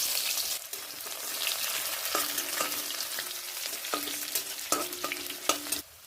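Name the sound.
onion frying in oil with cumin, stirred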